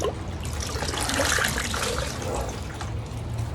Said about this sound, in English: I'm just gonna put some of this water in